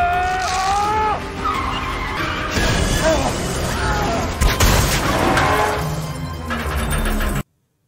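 A bus skids and crashes in a film scene: loud tire squeals and screeching build to a heavy impact midway, followed by rumbling debris, with voices mixed into the chaos.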